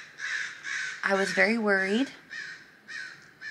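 A crow caws loudly in a single burst close by, its harsh rasping call rising and falling, while a person speaks softly before and after it.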